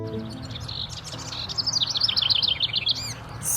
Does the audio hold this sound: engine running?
no